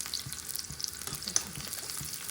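Cashews and curry leaves fry in hot ghee with a soft, steady sizzle and small crackling pops, fairly quiet and close, with faint stirring and no talking.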